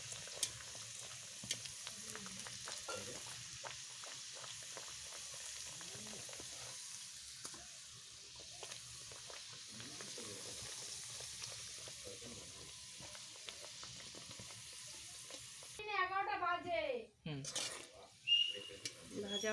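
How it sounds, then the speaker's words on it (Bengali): Pea-stuffed kochuri fry in hot oil in a wok, giving a steady soft sizzle with scattered crackles that runs throughout, before a voice speaks briefly near the end. "এবার আমি ভেজে নিচ্ছি কচুরিগুলো।"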